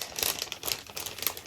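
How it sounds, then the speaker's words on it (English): A plastic bag holding embroidery thread crinkles close by, a steady run of crisp rustling bursts with no voices over it. "So the thread does come in a plastic bag, which is really nice."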